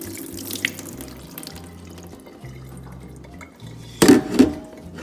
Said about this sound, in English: I'm going to give these a good rinse.